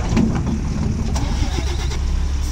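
Engine of a sixteen-wheel truck strains steadily as it pulls free from where it was stuck, a continuous low rumble with faint clatter throughout.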